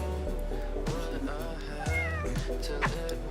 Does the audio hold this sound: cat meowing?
yes